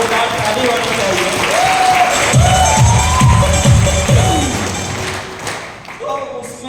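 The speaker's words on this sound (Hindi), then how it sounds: "इनके लिए एक जोरदार ताली होनी चाहिए।" Applause and cheering from an audience for guru Anurag sir, building into a sustained burst of clapping with thumps, then fading as talk resumes.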